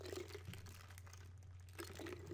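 Water is poured into a glass for drinking indoors, a faint, brief liquid trickle with a low steady hum in the background.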